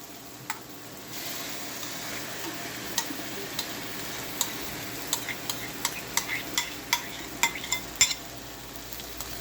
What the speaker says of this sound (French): on va rajouter la crème fraîche